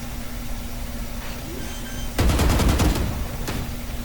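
Gunfire from the video game Valorant played on Xbox, a loud burst of rapid shots erupting partway through and cutting off, with one short shot after it.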